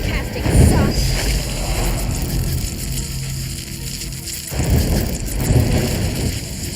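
Rain pours steadily with rumbling thunder throughout a stormy scene in the fantasy role-playing game Neverwinter Nights 2, loud and continuous, swelling at the start and again near the end.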